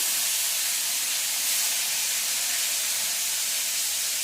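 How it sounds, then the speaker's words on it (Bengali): Loud, steady hissing sizzle of rohu fish frying in hot oil, close up and continuous, with no voices. "এই দেখো রুই মাছ ভেজে নিই।"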